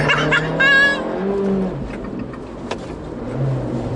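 Abarth 695 Anniversario hatchback lapping a race track, its engine note rising and falling with tonal revving over road noise, loud and close throughout with a brief high whine early on.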